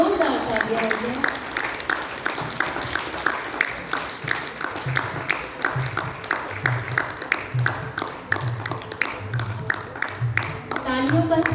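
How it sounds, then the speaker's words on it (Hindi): Sustained audience applause fills a spiritual gathering hall for a welcomed guest sister, a dense patter of many hands mixed with voices and cheering that carries on steadily throughout. "तालियों का सिलसिला रुकना नहीं चाहिए।"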